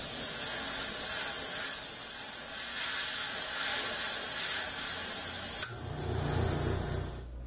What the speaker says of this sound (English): I'm going to give the entire model a coat of Future Flow Wax.